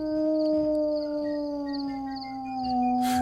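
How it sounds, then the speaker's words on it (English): A long, wavering howl holds steady throughout, with a second tone above it, ending in a brief burst of hiss. "It dropped down somehow to 4 legs and dashed off into the wooded darkness and filled the night air with its howls"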